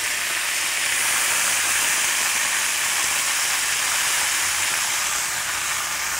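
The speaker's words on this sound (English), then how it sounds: "I'm going to hit it with some liquid with those citruses. Have some lime. And I'm really hitting every single piece." Lime and citrus juice hits a hot pan of Hawaiian fish, producing a loud, continuous steam hiss and sizzle that holds steady throughout.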